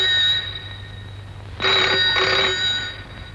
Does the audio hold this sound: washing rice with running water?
no